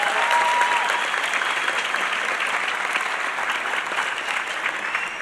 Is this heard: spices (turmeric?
no